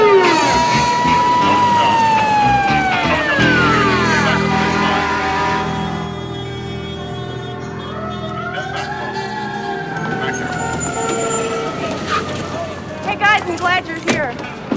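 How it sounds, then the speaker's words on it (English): Police car sirens wail from an emergency vehicle in a city street scene from a 1987 action film, rising and falling steadily for the whole stretch under music and other street sound. "Hey, Bob, we put the sirens on, huh, Kenny?"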